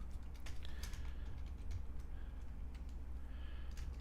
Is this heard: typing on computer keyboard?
yes